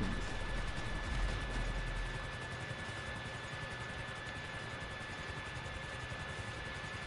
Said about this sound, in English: Lance try to land the helicopter as soon as you can